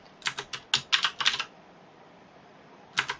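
Keystrokes on a computer keyboard as someone types a short entry for a self-introduction presentation slide: a quick burst of about a dozen close, crisp clicks, a pause, then a couple more taps, with no talking.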